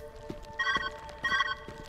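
Telephone ringing in the video game Viewfinder: two bursts of a bright electronic ring, each about half a second long, with a steady tonal hum and faint footsteps in between.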